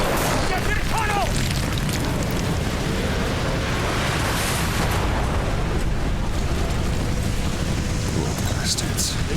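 Explosion at a Baikonur launch site in Call of Duty Black Ops (2010), a heavy rumbling boom that rolls on continuously like thunder, loud and dense, with a voice speaking under the din.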